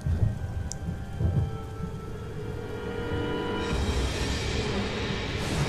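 Steady rain falls with low rolling thunder in the video game Lollipop Chainsaw, a dense continuous hiss that builds toward the end, with no voices.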